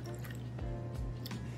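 Extra water is poured into a strained infusion for a mojito tart, a short close liquid trickle with soft drips and splashes.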